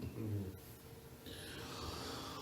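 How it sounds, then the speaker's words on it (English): A person snores softly, one slow, rough breath rumbling low and faint against a quiet room. "Is he snoring?"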